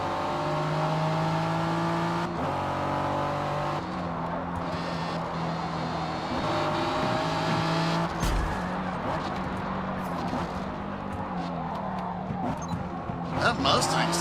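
Ferrari 488 engine racing in the Forza video game, revving up and down steadily in the background while a person talks over it, with a brief sharp thump midway.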